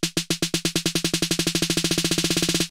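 Snare hits generated by an FL Studio piano roll tempo transition script play as a loud rhythmic roll that speeds up steadily, the strikes crowding closer together until they almost blur into a buzz.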